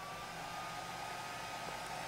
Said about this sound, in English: these fans, of which there are two, go fairly fast when they're put up to full bore